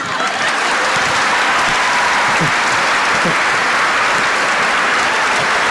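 Applause at a church service keeps up a loud, steady wash of clapping from start to end, with no pause and no clear talk over it.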